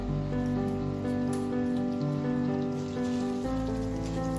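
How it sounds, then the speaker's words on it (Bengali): Bengali fish kofta balls fry in hot oil with a steady, hissing crackle that stays even throughout, while sustained musical tones play underneath. "গড়ে নিয়ে এবার আমি এগুলো তেলে খুব ভালো করে এপিট ওপিট করে ভেজে নেব।"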